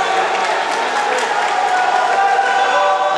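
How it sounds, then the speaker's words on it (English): A football stadium crowd at a men's semi-final roars and cheers after a goal, a steady loud wash of voices that holds throughout with no breaks. "And the crowd has erupted here."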